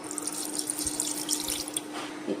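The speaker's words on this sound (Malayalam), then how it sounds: "ഈ മിക്സിയുടെ ജാറിലേക്ക് നമുക്ക് ഈ നാരങ്ങയുടെ നീര് ഒഴിക്കാവേ" Lemon juice is poured into a mixer grinder jar, a brief, steady trickle and splash of liquid.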